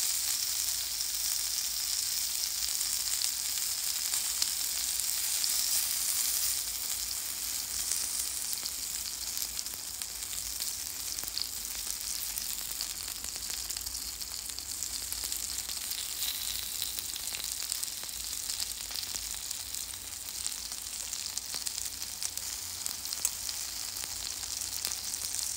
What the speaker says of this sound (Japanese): ちょっとチーズを一緒に焼きました。